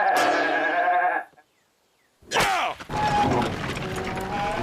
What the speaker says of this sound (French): Vous n'allez pas interroger un mouton?